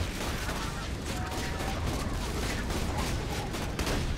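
Dense, sustained gunfire from a firefight in the video game Borderlands 2, a continuous wash of overlapping shots and booms with no pause across the whole stretch.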